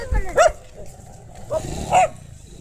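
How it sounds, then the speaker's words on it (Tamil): On a rainy, flooded street during a temple chariot festival, a dog lets out two short barks about a second and a half apart. The barks are moderately close over a low, steady background murmur. "இங்கே பாருங்க நாய் பாருங்க எல்லாம் ஒரே கலர்"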